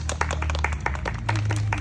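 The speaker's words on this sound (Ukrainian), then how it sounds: "Вдячними оплесками" Young pupils in a first-grade classroom clap together after a police officer's safety lesson, producing a steady patter of hand claps at close range over a low background hum.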